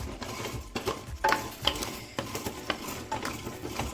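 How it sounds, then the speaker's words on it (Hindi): A spoon scrapes and stirs amla gooseberries in salt inside an iron kadhai, giving irregular clinks and gritty scraping strokes close up with a faint sizzle underneath and no talking. "एक बार इनको हिला देंगे थोड़ी देर और इसी तरह से पकाते रहेंगे हिलाते हुए"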